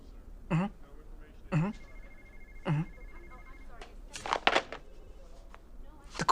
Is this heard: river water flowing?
no